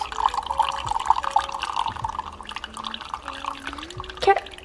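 Hot water from a fridge water dispenser trickles and drips in a thin, steady stream, close by, with small splashes, a faint hum and a brief sharper splash near the end.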